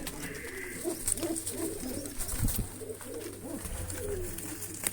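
Pigeons coo softly and repeatedly, low throaty calls over a steady background hiss.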